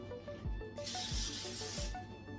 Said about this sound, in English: I'm going to spray just a little bit of nonstick spray on the foil